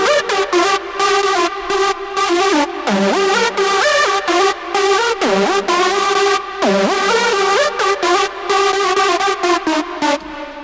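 A bright, buzzy detuned saw synthesizer lead made in Massive plays a choppy melodic line with pitch glides and gated rhythmic stabs, loud and up front with no voices.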